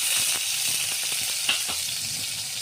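Chopped onion sizzles in hot oil in a kadhai, a loud, steady frying hiss with a few soft stirring taps, no talk.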